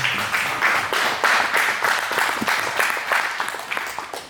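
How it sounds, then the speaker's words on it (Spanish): A church congregation claps for the Lord in a steady, energetic burst of many hands, close and continuous throughout, with a few voices faintly underneath. "Dale palmas al Señor"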